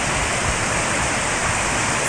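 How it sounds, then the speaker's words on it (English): Water falls from an upper ochre-stained precipitation area into a lower one at Devon Great Consols Mine, a steady, close, broadband rush that stays even throughout with no voices. "this is what you can see here is the waterfall from the upper precipitation area into the lower one"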